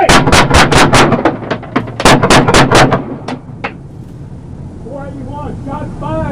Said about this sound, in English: 481, shots fired. Shots fired.